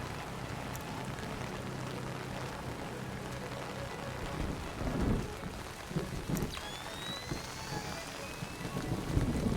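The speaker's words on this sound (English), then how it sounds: "Man, it's really raining." Steady rain pours down with a constant hiss in the video game Splinter Cell Chaos Theory, a low rumble of thunder swelling midway through.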